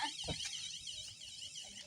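An alarm sounds outside a house, a faint, high, warbling electronic tone repeating steadily in the distance, with a brief bump of nearby noise.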